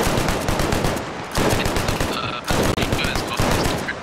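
M60 machine gun in Arma Reforger hammers out long, sustained automatic bursts, loud and close, broken by two brief pauses, amid a busy battlefield.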